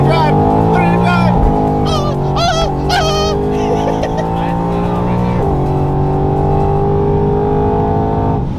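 A procharged Mustang making about 700 wheel horsepower pulls hard at full throttle, its engine note climbing steadily under a long sustained roar with tire chirps along the way, while people talk over the noise.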